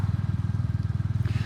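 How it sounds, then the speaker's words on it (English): Exhaust of a brand-new Royal Enfield Classic 350 motorcycle, a steady, close, rapid low thumping pulse from the single-cylinder engine while riding, with no talk over it. "The exhaust sounds very good."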